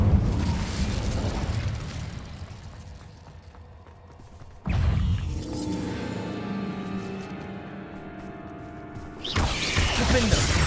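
A fire spell in Hogwarts Legacy on PS5: a loud boom and roaring burst, then a crackling, churning rumble that fades before another heavy blast hits.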